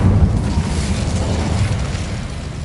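Incendio fire spell cast in Hogwarts Legacy, a steady roaring whoosh of flame with a deep rumbling low end, loud and sustained throughout without pause.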